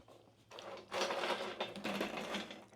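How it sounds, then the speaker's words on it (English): Freeze-dried Airheads candy crunches in a burst of dry, crackly bites, rising after a brief quiet start and continuing steadily close up with no talk. "The crunch, you can hear them crunching."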